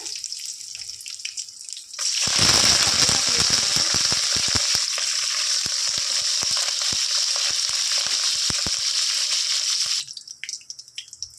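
Cumin, mustard seeds and dry red chillies hit hot oil for a tempering: a sudden loud, rushing sizzle with quick sharp pops lasts about eight seconds, then cuts off to quiet.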